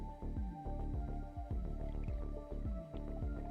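Water drips through in the sandbox game Sandustry as a steady series of close, squishy plopping drops, each falling in pitch, repeating about twice a second.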